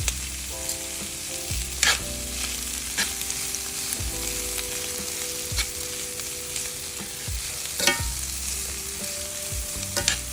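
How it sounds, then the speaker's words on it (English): Onions sautéing in a pan for steak fajitas, a steady close sizzle with scraping stir strokes at intervals and a low hum underneath, no talking. "as you can see how the onions are starting to saute or starting to get translucent"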